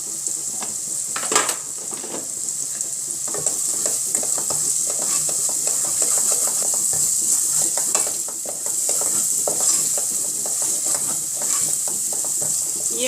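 Spices including coriander powder are stirred and roasted in a pan for a kaddu kofta gravy, giving a continuous close sizzle with frequent scraping and knocking of a spoon against the metal.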